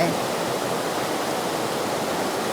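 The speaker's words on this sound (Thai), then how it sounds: "นู่นค่ะน้ำไหล" Water rushes steadily and continuously, a dense, even roar like a stream or small waterfall close by, with no pauses, at Chae Son hot springs in Lampang, Thailand.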